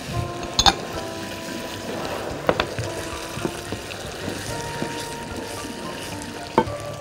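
Grated tomatoes fry in a pan for a vegetable and meat dish, a steady close sizzle with occasional sharp clinks of a utensil against the pan and no speech.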